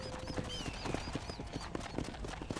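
Horse hooves clip-clop steadily at a walking pace in Red Dead Redemption, close and clear, with a whinny-like tone early on and ambient game sound behind.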